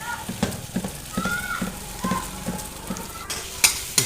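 Masala spices are stirred into onions and vegetables frying in a pan for macaroni pasta, a soft sizzle under repeated rhythmic scrapes and clacks of a spoon, ending with a couple of sharper knocks.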